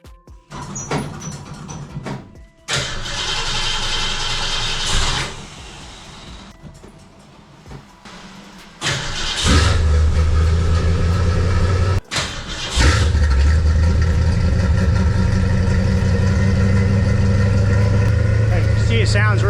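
An old Pontiac Firebird field find cranks in short bursts before its engine catches and settles into a loud, steady idle close by, with brief gaps between attempts.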